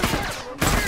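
Gunfire in a shooting video game, a rapid burst of shots filling the short moment with a brief gap partway through, loud and dense, with no talk over it.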